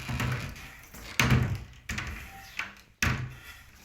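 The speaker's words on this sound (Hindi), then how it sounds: "दरवाज़ा अटक गया गाइस, दरवाज़ा अटक गया।" Stuck wardrobe door in a PG room being pushed shut, giving several dull wooden thumps and knocks at irregular intervals, fairly close and loud, with no talking.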